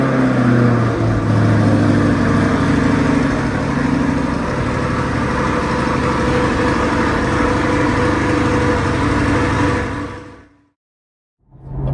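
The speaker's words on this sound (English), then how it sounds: "This is the very first cold start the next morning to see how the exhaust sounds." A C8 Corvette fitted with an Eventuri cold air intake and aftermarket exhaust idles on its first cold start of the morning, a loud, steady low rumble that holds for about ten seconds before cutting off abruptly.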